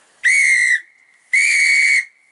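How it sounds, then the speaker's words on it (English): Two long, steady blasts of a whistle blown with breath, each about half a second, piercing and pure-toned with a faint lingering tone between them. "Both very similar whistles."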